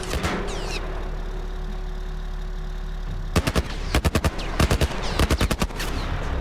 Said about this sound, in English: Shooting us with a military grade weapon.